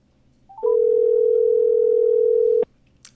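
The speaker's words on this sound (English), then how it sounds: "So let's get Ed on the phone." A steady, loud telephone dial tone holds for about two seconds over a quiet background, then cuts off abruptly, followed by a faint high click.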